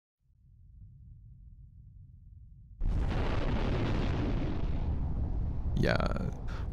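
An explosion erupts in a PSP video game set in Shibuya: a low rumble builds, then a sudden loud blast bursts in and roars on steadily, with a brief rising whoosh near the end.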